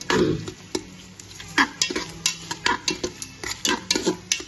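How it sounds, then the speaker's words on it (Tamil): A cook stirs a thick masala of ginger-garlic paste, onion and tomato in a pan for biryani, the spoon scraping in a quick irregular rhythm of sharp close scrapes over a soft low sizzle, with no voices. "இப்போ நம்ம இதில் வந்து இஞ்சி பூண்டு விழுது, வெங்காயம், தக்காளி எல்லாம் போட்டு கொஞ்சம் நல்ல மசாலா கிண்டிக்கிட்டு இருக்கோம்"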